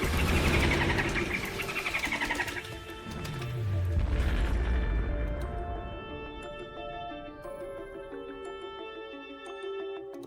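Heavy booming explosions and crashing bursts from a Plants vs. Zombies style tower-defense game, with a deep rumble that fades into ringing, musical game sounds.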